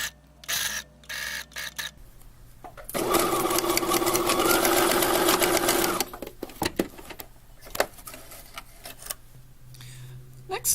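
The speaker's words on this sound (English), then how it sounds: "you're going to sew with a size 3, back stitching at both ends" Sewing machine stitching a pocket onto a tote bag at a size 3 stitch length, backstitching at both ends: one steady, loud run of about three seconds, with shorter starts and stops and handling noise before and after.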